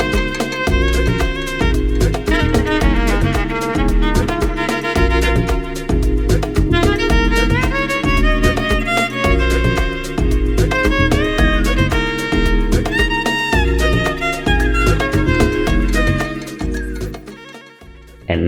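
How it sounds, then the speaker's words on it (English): An unmastered final mixdown of an Amapiano track plays on its own at full level, with steady punchy low drums and log-drum bass under layered chords and percussion, thinning briefly near the end. "this is what that final mix down sounds like unmastered"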